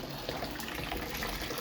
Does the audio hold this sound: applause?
no